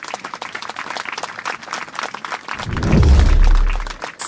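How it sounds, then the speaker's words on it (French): A small group claps after a dance lesson, scattered light applause that gives way to a loud low rumbling thud midway, then a sharp burst at the end. "vous méritez des applaudissements"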